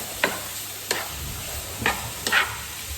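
Minced meat fries and browns in a pan with a steady close sizzle, broken by a few sharp scrapes as it is stirred.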